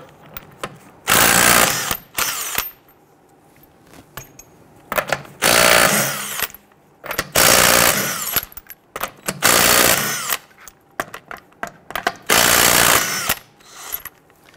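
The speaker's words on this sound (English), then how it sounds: "Using a 21mm socket, go ahead and loosen and remove your lug nuts." An impact wrench fitted with a 21mm socket removes lug nuts from a 2006–2012 Toyota RAV4. It fires in five loud rattling bursts of about a second each, separated by quieter clicks and handling noises.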